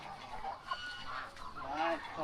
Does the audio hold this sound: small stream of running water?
no